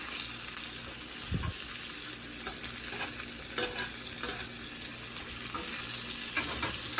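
Steak frying in butter in a hot pan gives a steady, even sizzle with soft crackles and a light scrape near the start, close and continuous with no talking.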